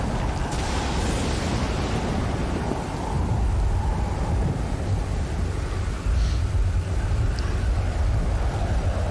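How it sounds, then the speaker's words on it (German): Storm in the survival game Stranded Deep: a steady, loud roar of wind and rain with deep rumbling thunder swelling midway, continuous throughout with no voices. "Wohin wird mich der Sturm treiben?"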